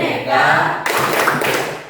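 A school class claps a rhythmic pattern during a Pancasila student profile clap chant, a quick burst of hand claps followed by a second flurry, with chanting voices around it.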